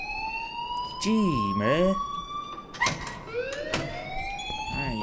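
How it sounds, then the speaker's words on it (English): A rising and falling electronic alarm tone rings steadily in the Life is Strange video game, moderately loud, while a voice speaks briefly over it. "please turn off that alarm"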